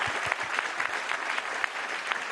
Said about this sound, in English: I will invite you to join me in a big round of applause for our speakers